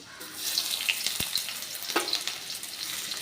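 Garlic cloves, chopped onion and a dried chilli fry in a pan over a low-to-medium gas flame, giving a steady close sizzle with a couple of sharp crackles and stirring clatters, no voices.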